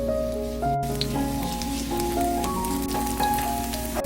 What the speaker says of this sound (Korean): 중불로 달군 팬에 기름을 넉넉하게 둘러주세요. 반죽을 한 숟가락씩 떠서 올려주세요.